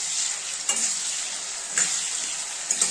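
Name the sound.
frying food in a pan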